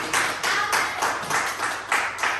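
Church congregation at a French-language service in Scarborough, Maine, clapping in unison in bursts of rhythmic applause, fairly close and loud, with no talk over it.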